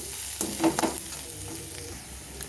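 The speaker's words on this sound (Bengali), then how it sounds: "এবারে দিয়ে দিলাম কাঁচা লঙ্কা আর রসুন যেটা গ্রেট করে রেখেছিলাম" Green chili, crushed garlic and onion fry and get stirred in a pan for a bread snack, with a steady sizzle and a few louder scraping stirs near the start.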